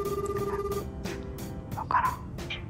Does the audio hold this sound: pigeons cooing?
no